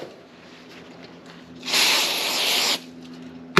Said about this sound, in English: spray it with brake cleaner and go all around this